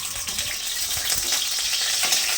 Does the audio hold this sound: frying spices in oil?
yes